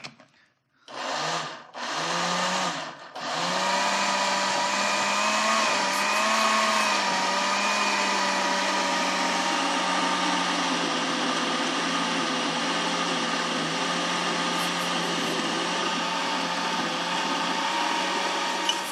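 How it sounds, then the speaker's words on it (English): A blender blending soup starts with two short pulses, then runs continuously at a steady high-pitched whir for a long stretch, close and loud. "The blender makes quick work of this soup."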